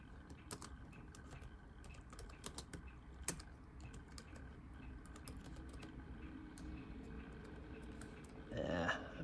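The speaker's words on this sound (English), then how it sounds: "I'm having trouble typing here." Typing on the keyboard of a 2005 iBook G4 laptop produces quick, irregular soft key clicks close up, over a low room hum, ending in a brief louder rustle.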